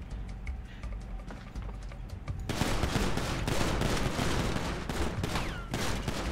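Gunfire breaks out during a store robbery in a GTA 5 roleplay game, with a burst of rapid shots after a quieter lead-in, continuing in loud, dense volleys with sharp individual cracks.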